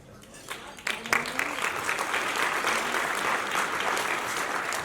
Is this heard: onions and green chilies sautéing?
no